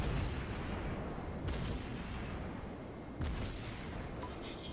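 Anti-aircraft gunfire aimed at torpedo bombers in World of Warships, a dense continuous rattle of distant flak bursts, with a few sharper cracks standing out.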